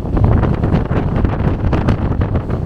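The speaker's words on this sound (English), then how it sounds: "It was still windy, as you can see here." Strong wind buffeting the microphone on the Camino near Muxía, a loud continuous roaring rumble that gusts slightly but never lets up.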